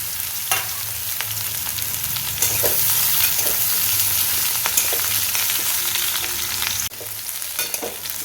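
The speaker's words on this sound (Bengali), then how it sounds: "এবার একই সাথে সয়াবিনগুলো হালকা করে ভেজে নেব" Soybean chunks fry lightly in a pan for a vegetarian soybean curry, a steady close sizzle with scattered stirring scrapes and crackles throughout, no talking.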